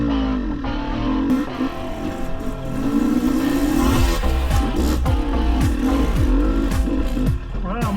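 A 2022 GasGas EC 300 enduro motorcycle revs hard as it climbs a slope, loud close two-stroke bursts rising and falling repeatedly, with someone talking intermittently over the engine.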